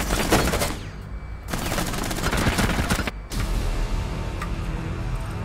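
Rapid gunfire from the tactical shooter video game Rainbow Six, with dense bursts of shots filling most of the stretch and brief gaps between volleys, loud and close.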